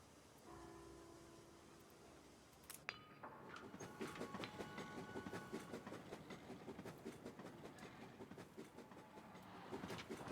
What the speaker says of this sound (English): We have 3 oil trains on their way.